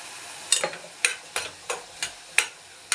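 Pumpkin pieces frying with a pinch of turmeric in a pan, stirred in a steady series of sharp clinks and scrapes roughly every half second over a soft sizzle, close and alone with no talk.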